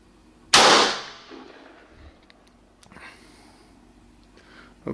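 A single sharp rifle shot cracks out nearby at a target, its blast ringing and decaying over about a second, followed by faint clicks and handling noises.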